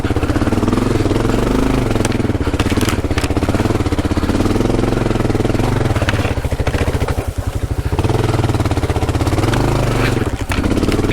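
A Kawasaki KLR motorcycle engine labours up a hill climb while adventure riding in Australia, giving a loud, close, steady thumping drone with a few brief surges as the throttle changes.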